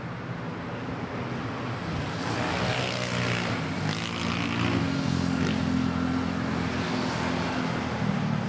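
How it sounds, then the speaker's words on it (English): An ATR turboprop airliner passes at Manila Airport, its broad propeller and engine drone building steadily and staying loud and close throughout, with wind noise over the microphone. "here we go. We got an ATR."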